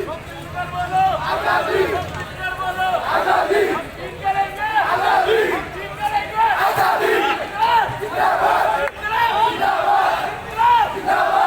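A crowd of protesters at a street demonstration against the citizenship amendment law, NPR and NRC, chanting slogans together in loud, rhythmic bursts that rise and fall steadily throughout.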